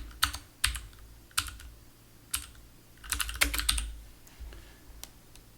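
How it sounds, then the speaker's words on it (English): Rapid bursts of typing on a clacky mechanical computer keyboard, recorded up close, with crisp clustered keystrokes separated by short pauses and a denser flurry near the middle; no one speaks. "a real clacky keyboard"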